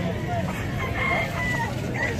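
A hen or rooster calls amid a busy outdoor market, its crowing blending into steady crowd babble, passing traffic and talking voices throughout.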